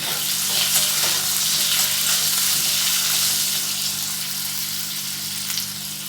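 Potatoes with turmeric and salt fry in oil in a pan, giving a steady, loud, close sizzle with faint stirring underneath.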